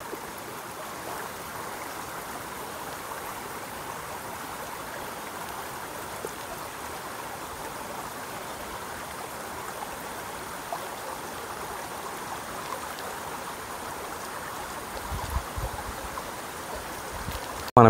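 A rain-swollen stream runs steadily across a village route, producing a constant, broad rushing wash of water that stays even and fairly quiet throughout, with no voices.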